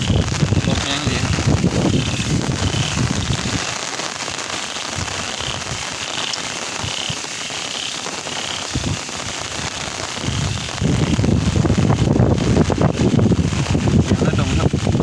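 Steady rain pours over rice paddy fields in Nadong during Tropical Storm Noul, a dense continuous hiss with gusts of wind and occasional drops, heavier at the start and end, while someone talks intermittently.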